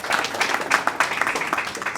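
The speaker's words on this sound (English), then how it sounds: "Let's give him a big round of applause again." Brief audience applause at a media briefing in Lagos, with individual claps fairly distinct and moderately loud over a short two-second stretch.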